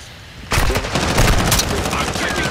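Dense automatic and rapid gunfire from the video game Call of Duty: Modern Warfare II, a loud close burst that starts abruptly and continues as sustained crackling shots with game voice callouts mixed in.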